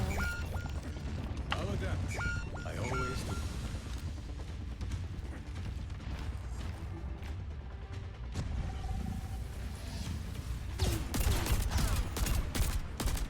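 Overwatch gunfire rattles in rapid bursts and repeated shots over a dense, busy game mix of mechanical clanks and effects, with a louder cluster near the end and someone talking throughout.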